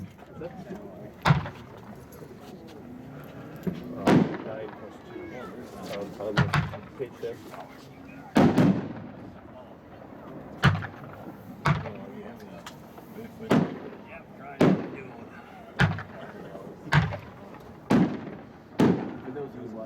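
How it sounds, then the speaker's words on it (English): Firework cake of 500 tubes fired at a demo, a series of loud booming bursts spaced a second or two apart, some distant and overlapping, with people talking between shots. "Now we will be shooting the second 3-inch rack of the mixed case. This is another"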